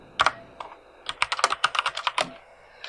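Fingers typing on a computer keyboard while entering a COUNTIF function in Excel, a quick irregular run of light clicks and taps, close and fairly quiet, with no talking.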